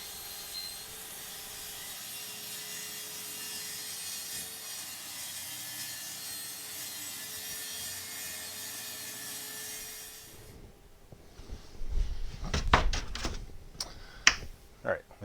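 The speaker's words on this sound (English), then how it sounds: "Let's get to cutting. I really like this Craig track saw." A Kreg track saw cuts a sheet of plywood in a shop, a steady whining cut running about ten seconds, then stopping and giving way to scattered knocks and wood handling sounds.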